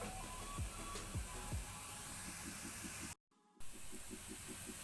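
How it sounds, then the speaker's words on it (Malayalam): Ginger garlic paste sizzles steadily in a hot pan while being sautéed for butter chicken masala, a continuous close hiss with a brief sudden dropout partway through. "അതിലോട്ട് നമുക്ക് 2 ടേബിൾ സ്പൂണ് ഇഞ്ചി വെളുത്തുള്ളി ചേർച്ചത് വഴറ്റി കൊടുക്കാം."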